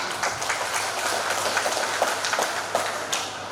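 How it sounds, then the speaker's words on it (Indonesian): An audience applauds at the Pesta Bolon 2026 Parsibona Jabodetabek community celebration, with a steady wash of hand clapping at moderate distance and scattered sharper claps standing out. "Tepuk tangan."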